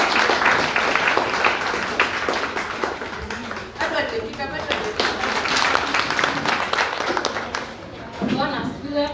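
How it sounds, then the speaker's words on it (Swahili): A church congregation claps together during a service, a dense, steady wash of applause that runs the full length with voices mixed in underneath. "Tumpigie makofi basi."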